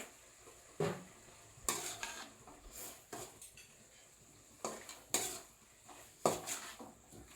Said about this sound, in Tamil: ஸோ எல்லாம் கிளறிட்டீங்களா